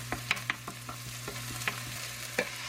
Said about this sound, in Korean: 오일 1숟가락 그리고 다진 파를 중불에서 볶아줍니다.